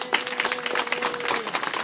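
Applause from an audience at a community meeting, steady clapping from many hands at moderate loudness, lasting the whole moment.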